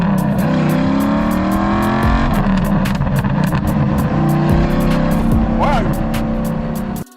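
A TVR Griffith 500 British sports car with a V8 engine revs loudly and steadily for about seven seconds, its deep rumble rising and falling at close range with no talk over it.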